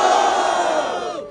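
A crowd at a Brazilian rap battle, Batalha da Leste, erupts in loud shouting and cheering, a dense roar that holds steady before cutting off abruptly near the end.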